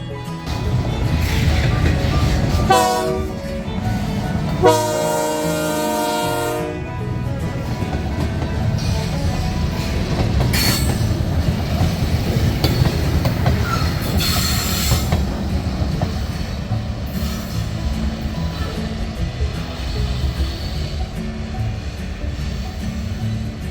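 An Alexander Railroad freight train shoving a hopper car rolls along the rails, wheels squealing sharply at times over a continuous heavy rumble and clatter, close and loud throughout.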